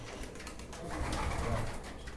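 Pigeons coo in a bird keeper's loft, low soft burbling calls rising in the middle, nearby and moderately loud over a rustling background, no talk.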